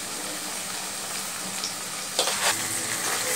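Prawns in a mustard and yogurt sauce sizzle steadily in a pan while a spoon stirs through them, with a few louder scraping strokes near the end.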